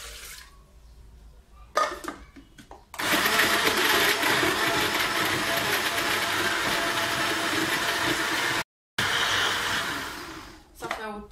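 A kitchen blender grinds whole lemons with their peel in half a litre of water, giving a loud, steady, buzzing whir for about eight seconds with a brief cut-out, framed by quieter handling clatter.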